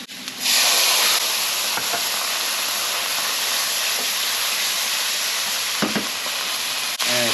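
Garlic and capers frying in a pan for pizza puttanesca, a steady close sizzle and hiss that jumps up loudly as ingredients hit the oil, with occasional stirring clatter.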